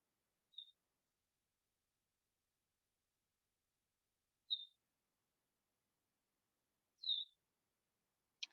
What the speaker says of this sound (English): Birds chirping, sun shining.